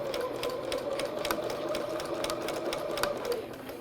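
Sewing machine stitching a curved neckline in fabric, a steady close whirring stitch rhythm running continuously without a break, with no voices over it.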